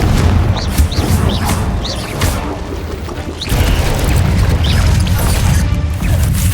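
Spell blast of Confringo cast in the Hogwarts Legacy video game, a loud booming crash with sharp impacts and crackling bursts over a dense, continuous rumble of game effects.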